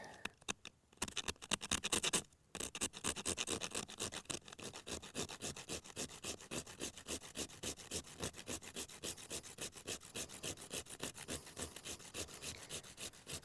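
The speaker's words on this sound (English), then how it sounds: "So you just scrape away." Fatwood, or fat lighter, scraped to make tinder: fast, rhythmic rasping strokes up close, with a brief pause near the start before the scraping settles into a steady beat.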